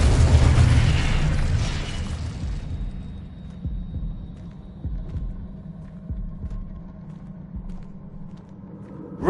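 Accio and Incendio spells from the Hogwarts Legacy video game land as a loud, bright whoosh and burst up front, then give way to low, repeated thumping impacts over a steady hum, with no talking.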